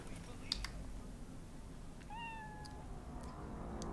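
In Cyberpunk 2077, a game cat gives a single clear, rising meow over a low steady background hum, with a few faint clicks around it.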